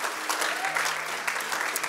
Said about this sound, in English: give God a hand of applause